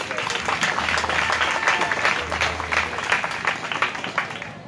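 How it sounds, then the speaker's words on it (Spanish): Applause for political candidates at a public event, a sustained round of clapping from a gathered crowd, fairly close and easing slightly toward the end. "un aplauso para ustedes"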